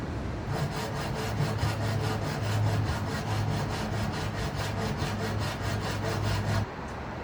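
A hand saw cuts notches into wood with fast, even back-and-forth strokes, a steady rasping rhythm held close and loud for several seconds before stopping abruptly near the end.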